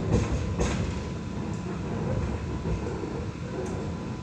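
A light rail tram pulls into platform 2 at Chalmers Street, a continuous rumbling rail noise with faint squeals and clicks, heard close by.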